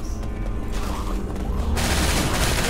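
Gunfire in the video game Left 4 Dead 2 comes as a dense, loud, continuous fusillade of rapid shots, swelling into a harsher burst in the second half, with no speech.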